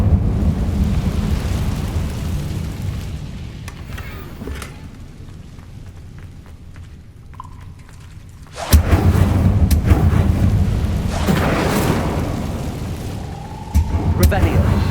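An Incendio fire spell is cast in Hogwarts Legacy: a low rumbling ambience gives way to a sudden loud fiery whoosh that roars on, followed by a second burst moments later.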